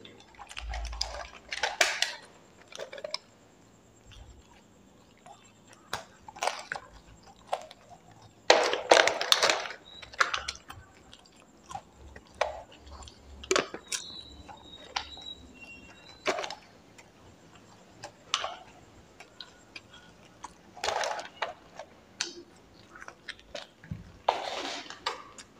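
French fries are eaten up close with no talking, with crisp chewing and scattered clinks and scrapes of cutlery against a plate coming in short irregular bursts.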